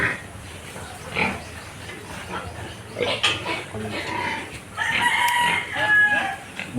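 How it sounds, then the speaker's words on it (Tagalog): Chickens and a rooster on a small farm, bred for cockfighting, cluck and crow nearby, with a longer crow toward the end and pigs grunting in the background. "Meron din manok si Bayaw, dito."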